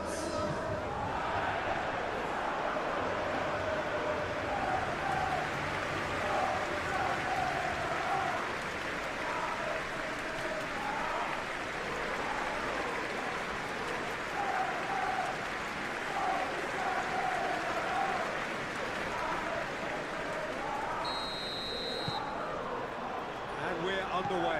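Stadium crowd in a PES 21 football match simulation between Manchester City and Chelsea, a steady broad roar of cheering and applause throughout, with chants rising and falling in the background.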